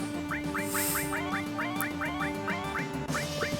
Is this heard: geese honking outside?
yes